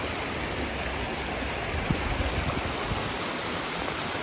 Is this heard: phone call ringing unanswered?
no